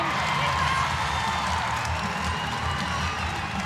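A netball crowd at John Cain Arena cheering during a Suncorp Super Netball match between the Mavericks and Fever, a steady roar of voices and clapping throughout.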